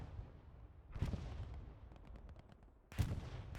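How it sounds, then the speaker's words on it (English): Artillery fire in the video game Squad, with a sharp distant boom near the start followed by a louder blast and rumble near the end, over a faint background rumble and no talk. "So got some artillery falling here."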